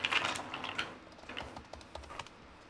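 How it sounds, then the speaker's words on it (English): Typing on a computer keyboard, with fairly quiet, rapid and irregular clicks of keystrokes in quick bursts that thin out toward the end, heard alone without talk. "It's typing."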